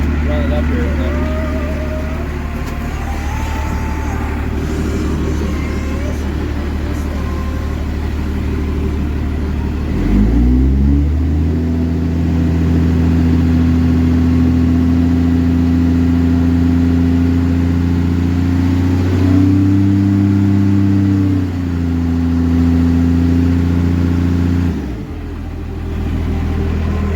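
A warmed-up car engine with a fuel problem idles with a low, steady rumble, then is revved and held at higher speed, rising again briefly before settling back to idle, loud and close.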